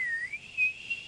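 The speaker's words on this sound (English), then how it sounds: "This guy just randomly interjects his whistles at random times in the game." A hockey fan in an arena whistles a single sustained, wavering note that holds steady for about a second, clear and loud against a quiet background.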